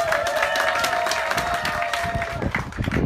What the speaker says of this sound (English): let's give a round of applause to our sponsors